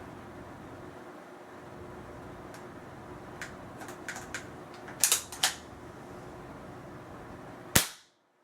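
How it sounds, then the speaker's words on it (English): A Power Master pump airgun being worked, a few sharp clicks and snaps of its mechanism near the end, ending in one loud crack, close by over a low steady background hum. "This is the loudest of all four of those Power Masters."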